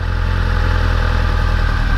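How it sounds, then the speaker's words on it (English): A Kawasaki Ninja 636 motorcycle engine idles steadily as the clutch is eased into the friction zone on a hill, a close, loud, even mechanical rumble with light clatter throughout. "Hear that? The engine is starting to engage the rear wheel."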